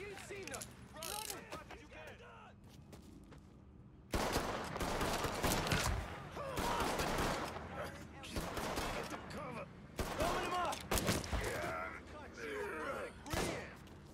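Gunfire in the Mafia III video game, bursts of rapid shots and heavier blasts that grow louder after a quieter opening, with mechanical clatter between volleys and someone talking at times.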